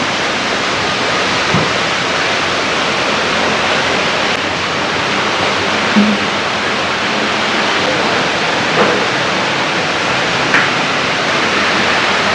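A waterfall feature at a large gas station in Phon Hong, Vientiane Province, Laos, pours with a loud, constant rushing wash of water that never lets up.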